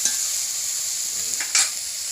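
Onions sizzle steadily in hot oil in a pan during village-style home cooking, with a constant bright hiss and a couple of brief stirring scrapes partway through.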